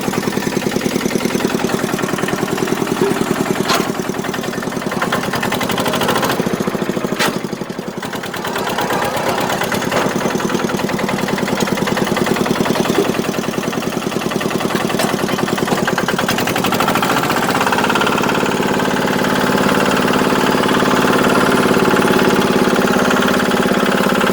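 A 2010 Kubota KRT 140 Plus tractor with its original engine idles steadily and loudly up close, a continuous rapid diesel chug that barely changes over a long stretch, with no talk over it.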